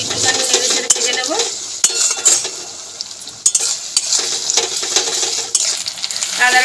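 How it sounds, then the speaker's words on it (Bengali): Ginger garlic paste frying with browned onions in a pan, a soft sizzle beneath repeated scraping and clinking of a spoon stirring against the metal, with irregular sharper knocks. "আদা রসুন বাটাটাও দিয়ে একটুখানি নেড়ে ছেড়ে ভেজে নেব"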